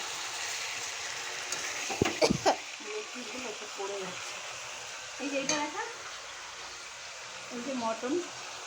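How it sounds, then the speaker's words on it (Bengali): Chicken kosha frying in a pan gives a steady broadband sizzle throughout, with occasional stirring clatter and voices talking briefly over it. "দেখো এখানে রান্না হচ্ছে চিকেন কষা"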